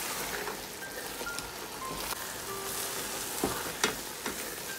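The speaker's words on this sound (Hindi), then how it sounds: "अब इसको तेज आंच पे भूनना है जब तक कि घी ऊपर ना आ जाए।" Chicken and spinach with double cream frying over high heat, a soft steady hiss of sizzling with occasional light spatters and a few utensil taps, fairly quiet and with no speech.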